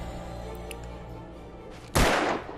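A single sharp gunshot in the video game Alan Wake, loud and sudden with a short decaying tail, following a stretch of quiet background game ambience.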